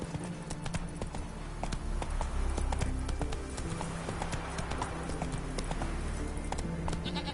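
The horse Roach galloping in The Witcher 3, a fast, steady drumming of hooves that stays close and even throughout, with a low ambient hum underneath.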